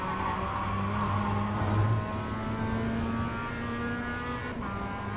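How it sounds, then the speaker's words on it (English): A Mazda MX5 in the iRacing game at Oulton Park accelerates in second gear, its engine a steady, close, loud drone that climbs gradually in pitch, with no talk. "I'm going to build back up on the throttle in second gear"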